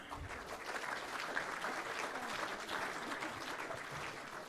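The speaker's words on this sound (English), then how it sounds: "Ladies and gentlemen, a round of applause for our 2017 TAC Cup Girls Team of the Year." Audience at a junior football awards night applauding the 2017 TAC Cup Girls Team of the Year, a faint, distant-sounding steady stream of clapping from a hall crowd.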